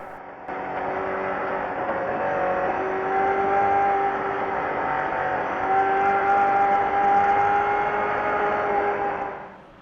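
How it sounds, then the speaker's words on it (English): A Ford Escort rally car at a stage rally revs hard and steadily under load, its engine note rising and holding in long sustained pulls close to the microphone, with no voices. "the wee Escort revving its heart out"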